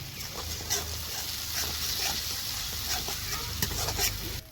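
Spice masala being sautéed with added tomato sauce in a pan, a continuous close frying sizzle with scraping stir strokes and small spatters throughout.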